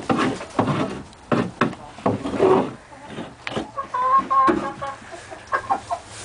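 Chickens cluck and squawk close by in a farmyard coop during egg collection, in repeated short bursts with brief gaps, the clucks loud and near.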